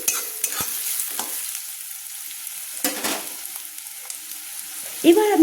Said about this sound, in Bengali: পেঁয়াজগুলো একটু ভেজে নিচ্ছি।